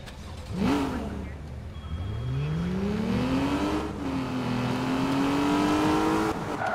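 An Aston Martin One-77 accelerates in the racing game Need for Speed Rivals. The engine note climbs hard through the gears, with each upshift briefly dropping the pitch before it rises again into a sustained high rev.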